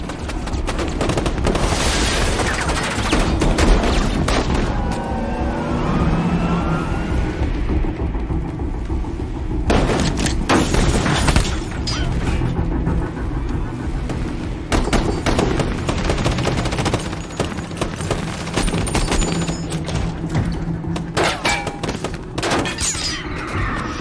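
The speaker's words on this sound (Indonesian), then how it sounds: "Tim SWAT pun akhirnya dikerahkan dan baku tembak hebat pun terus terjadi." Heavy automatic gunfire in a film shootout with a SWAT team, dense continuous bursts with booms and rumble, loud and relentless throughout.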